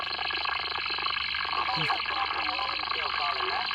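Radio static and warbling interference hiss continuously on an amateur radio net from Winter Hill, West Pennine Moors, with a faint distorted voice and tones wavering through the noise.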